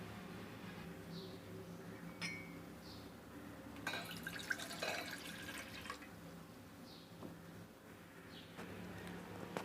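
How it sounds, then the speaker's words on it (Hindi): Three cups of water poured into a cooking pot (degchi) for lemongrass tea, heard as a close splashing, trickling pour with brief louder bursts over a steady low kitchen hum. "सबसे पहले हम इसमें देचकी में 3 कप जो है वो पानी शामिल करेंगे।"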